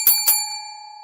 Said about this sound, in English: And there's that bell.